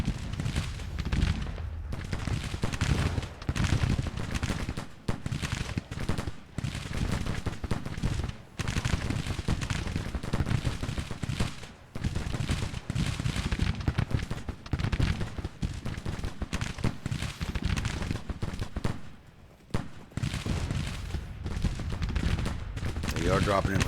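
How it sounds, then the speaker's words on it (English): Musket volleys and artillery rumble through a Civil War video game battle, dense rolling gunfire crackling continuously with heavy thuds, loud and unbroken for the whole stretch. "They are dropping in flank and firing."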